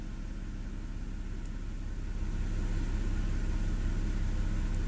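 A BMW N52 engine idles steadily after its non-return valves were cleaned, a low continuous rumble that grows slightly louder partway through, with no talk.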